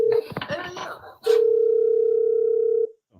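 A phone call's ringing tone sounds as one long steady electronic beep after a brief burst of voices and clatter, then cuts off into silence.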